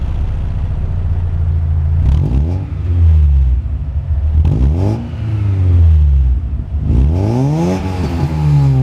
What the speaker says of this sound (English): a 2-litre engine, I don't think it sounds too bad.